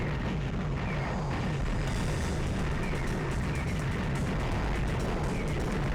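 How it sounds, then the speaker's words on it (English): Bomb blasts in a retro pixel-art video game, a loud continuous roar of explosive rumble and crackle sustained throughout, with no talking over it. "Oh, bomb to the face."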